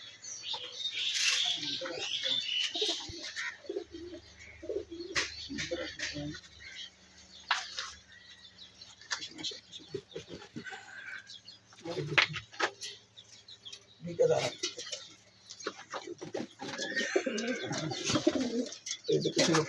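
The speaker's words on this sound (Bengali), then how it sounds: "আমার কবুতর" Racing pigeons coo repeatedly in a busy loft, low throaty calls mixed with chirps, wing flutters and scattered rustling, with some voices faintly in the background.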